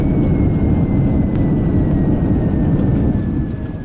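Boeing 787-10 thrust reversers roaring after landing in Microsoft Flight Simulator, a loud, steady low rumble that stays constant and eases slightly at the very end.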